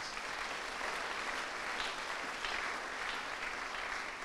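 A church congregation applauds steadily during an Easter sermon, a dense, even wash of clapping held for the whole stretch with no voices standing out.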